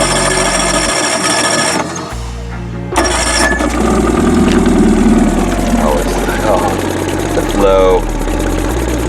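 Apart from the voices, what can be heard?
boat outboard engine running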